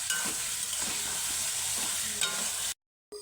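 Goat tripe frying in a hot pan, a continuous sizzle with occasional stirring scrapes, ending in a brief silence.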